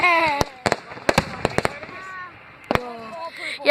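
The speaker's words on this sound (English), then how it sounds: "these fireworks are awesome" Fireworks bursting in a series of sharp cracks and bangs, several close together then a later pair, with a person talking between the blasts.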